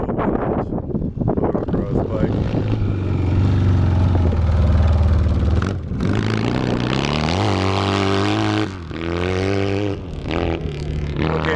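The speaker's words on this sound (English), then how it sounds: "Okay guys, that's how four-stroke should sound." Four-stroke motocross bike engine idling in the pits at a vintage motocross race day, a steady rumbling drone with slight pitch shifts, heard close with wind noise and someone talking over it.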